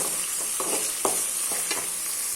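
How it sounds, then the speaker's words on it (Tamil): Green chillies and onions sauté in a pan for vegetarian idiyappam, a steady loud sizzle with soft stirring scrapes and taps repeating throughout, no voices. "நாலு கீரின பச்சை மிளகாய் க்ரீன் சில்லி இதையும் போ சேர்த்து போட்டு நல்லா வதக்கி விடலாம்"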